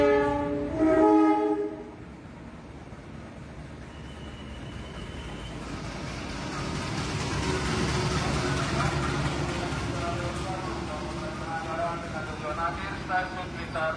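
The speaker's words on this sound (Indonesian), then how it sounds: "Sekarang saya naik kereta api Penataran ya." An Indonesian Penataran passenger train on the Surabaya–Blitar–Malang line sounds a loud, tonal horn blast near the start, followed by a steady rolling rumble of the train in motion.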